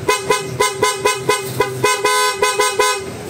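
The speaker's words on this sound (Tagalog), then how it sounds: "Change tayo sa loud horn." A loud horn on a Honda ADV160 motorcycle blares in a rapid series of short, repeated toots, evenly spaced and close by, with no talking.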